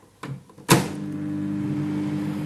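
A microwave oven cooking an apple dessert: a couple of clicks and a thump as it starts, then a steady low electric hum with a faint tonal whine that runs on to the end, with no talking.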